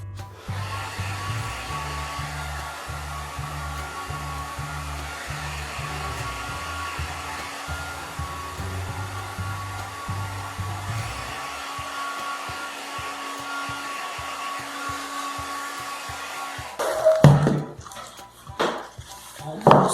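A hair dryer blows steadily and loud at close range while drying a handmade craft box for documents, running continuously for most of the clip before brief handling clatter near the end.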